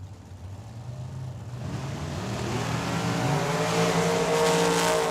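Drag racing cars, one of them a Corvette, launch at Tucson Dragway, their engines rising into a loud, swelling roar that builds steadily in volume over a few seconds.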